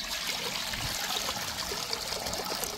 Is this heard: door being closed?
no